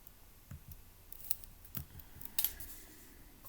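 Someone types a command on a computer keyboard: a handful of sparse, light key clicks, close and fairly quiet, with no talk.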